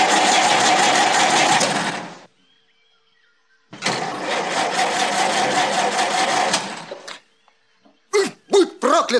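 A loud, rough diesel car engine drone runs steadily, cuts out, then returns for several seconds, followed by a few short sharp bursts near the end.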